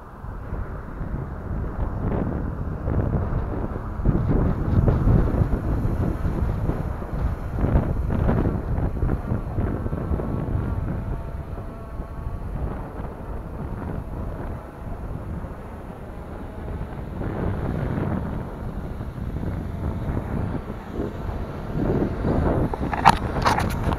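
Strong wind roars past the microphone during an outdoor flight of a Hubsan X4 H501A drone. The low, buffeting rumble is loud and continuous, with gusts swelling and easing and no voices.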